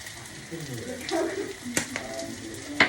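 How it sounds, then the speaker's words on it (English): Onion and mushroom sizzle in a pan, with soft crackling and a few sharp clinks as the food is moved around. "Mushroom, onion just frying up in a pan."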